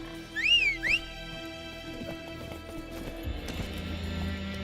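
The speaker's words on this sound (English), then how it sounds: "घोड़ा लेके आ सकते थे। आजा।" The horse Roach in Witcher 3 gives a loud whinny, then galloping hooves and game sounds continue steadily under the game's background ambience.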